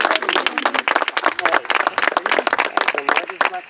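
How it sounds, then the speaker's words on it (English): Applause from a gathered crowd at a Habitat for Humanity duplex home build event in Warren County, brisk and close, with many hands clapping at once and voices mixed in. "let's give everybody a round of applause"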